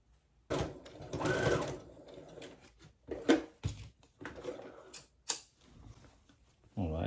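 A sewing machine stitches a welt pocket in short, uneven bursts of rapid mechanical whirring and clatter, close by, with a voice speaking between and over the runs.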